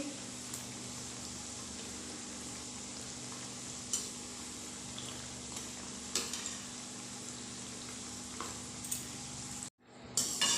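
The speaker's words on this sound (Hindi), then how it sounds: "इस मठरी को भी हम लो टू मीडियम फ्लेम के ऊपर दोनों साइड से क्रंची होने तक, गोल्डन ब्राउन होने तक फ्राई करके रेडी कर लेंगे।" Rice flour mathri deep-frying in oil over a low to medium flame, a soft continuous sizzle with occasional small crackles and clinks, briefly cutting out near the end.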